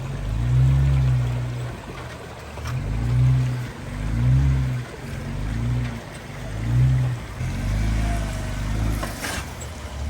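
A creek swollen after a storm rushes along in a steady, broad wash of water, overlaid by rhythmic low rumbling surges that come and go every second or so.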